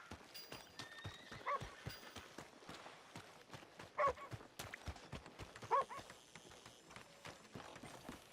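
Steady clip-clop of horse hooves plods along with a few short neighs, fairly quiet, in Red Dead Redemption 2 with faint ambient background.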